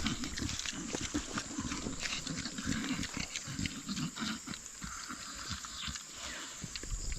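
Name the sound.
pet pig being fed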